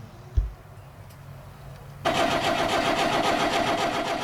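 A boat engine, unrun for over a month and just repaired with replacement parts, cranks into life after a quiet pause and then settles into a loud, steady running drone.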